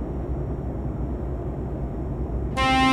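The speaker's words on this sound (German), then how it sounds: "ich finde das voll cool mit der Hupe" A loud truck horn blast in Euro Truck Simulator 2 from an Iveco truck, cutting in sharply near the end over a steady low engine and road rumble.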